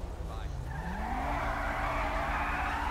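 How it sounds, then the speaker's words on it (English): A car in the video game GTA V does tire-squealing burnouts, with a rising screech over engine roar lasting through the clip, close and loud, with faint voices present. "Girl, if you don't stop doing burnouts."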